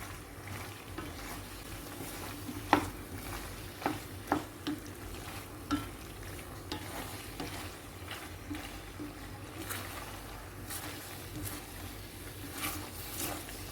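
Shredded chicken macaroni being stirred in a pan after hot water is added over the gas, quiet bubbling and wet sizzle with a handful of sharp spoon knocks early on, fairly faint throughout.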